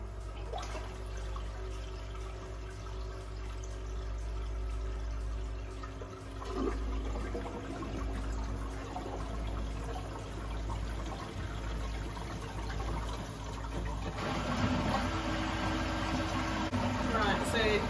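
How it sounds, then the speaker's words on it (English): A Waterbox marine aquarium pump switched on, water rushing and trickling through the tank in a steady wash that grows louder and brighter near the end. "I reckon we turn on the pump now"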